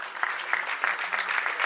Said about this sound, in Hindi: तालियों की गर्जना जोर से हो।